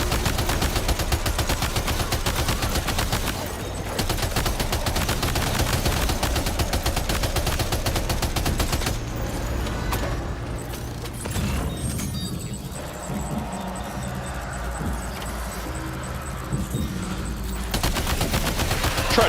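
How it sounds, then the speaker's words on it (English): Sustained bursts of machine gun fire in Death Stranding 2, rapid dense rattling that runs for long stretches, briefly thinning mid-way before resuming, loud and close with no talk over it. "Meet machine gun, bitches."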